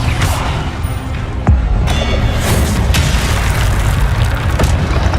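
Spell effects in Hogwarts Legacy fill the scene with a dense, loud roar of magical whooshes and crackles, broken by a heavy booming impact early on, with the sound sustained throughout.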